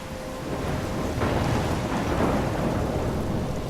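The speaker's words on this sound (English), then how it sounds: "I'm trapped in a storm?" Thunderstorm in the video game Life is Strange: heavy, steady rain hiss with a low rumble of thunder swelling midway, loud and continuous throughout with no voices.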